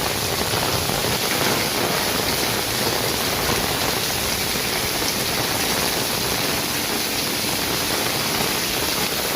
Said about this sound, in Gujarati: ભૂકા બોલાવે છે ભાઈ વરસાદ આમ જો.